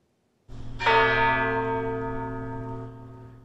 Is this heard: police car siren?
no